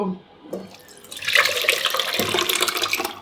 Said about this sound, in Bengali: এখন স্যুপটা এটার মধ্যে ঢেলে দিব